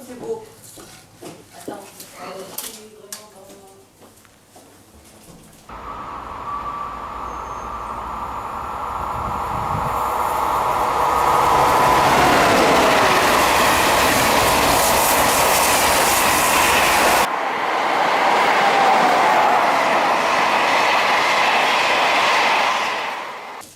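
Model trains clatter past with a rushing roar and rhythmic clicking of wheels, loud and continuous, after some brief talk and knocking at the start.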